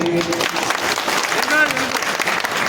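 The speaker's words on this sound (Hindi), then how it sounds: "तो उनको भी आप ताली बजाकर आशीर्वाद दे दीजिए।" A crowd at a Vishwakarma festival gathering in Indore claps in a dense, continuous wash of applause, loud and near, with a voice briefly heard over it.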